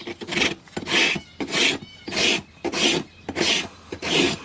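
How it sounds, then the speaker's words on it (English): A rasp files a horse's hoof during a trim, six or seven loud, close scraping strokes in a steady back-and-forth rhythm with short pauses between them. "Let the rasp do the work."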